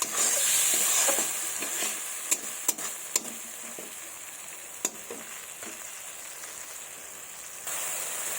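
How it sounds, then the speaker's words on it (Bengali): Spice paste is sautéed in oil with a splash of water in a pan, a steady hissing sizzle broken by a few sharp spoon scrapes and knocks, rising again at the end. "এভাবে মশলাটাকে এখন ভালোভাবে কষিয়ে নেব যতক্ষণ না তেল ছাড়ে"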